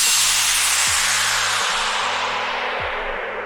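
A downlifter sweep effect, a crispy, noisy wash at the start that gradually dulls and falls away, plays over repeated low synth bass notes that slide downward in an electronic production.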